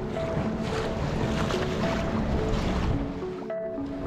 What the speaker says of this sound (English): We're going to paddle along the coast a bit